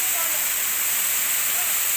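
Bamni waterfall in Purulia roaring as a dense, steady hiss of falling water, loud and close, unbroken throughout.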